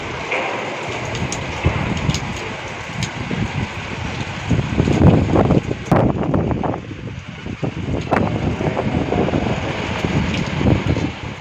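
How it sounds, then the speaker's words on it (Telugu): Heavy rain pouring onto flooded roads, a steady broad hiss and patter with wind-like rushing and occasional splashes or passing traffic. "వర్షం ఎలా పడుతుందో చూసారు కదా"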